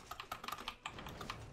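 Quick, uneven keystrokes on a computer keyboard while playing GTA Online, a close, crisp clatter of separate taps and short bursts at low volume, no voices.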